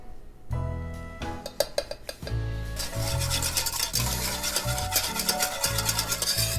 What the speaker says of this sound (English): I'm just gonna stir the wine and the cornstarch